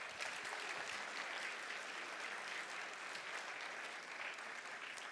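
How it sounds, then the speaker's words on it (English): An audience at a startup showcase evening applauds the judges with a sustained, even burst of clapping from a medium-sized crowd that holds steady throughout without cheers or talk. "So please give a round of applause for our judges for this evening."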